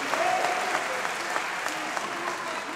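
An indoor wrestling crowd applauds steadily through a stalemate between Mike Bailey and Kaylee Ray, the clapping a continuous wash with a voice calling faintly over it.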